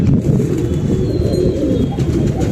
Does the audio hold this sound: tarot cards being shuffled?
no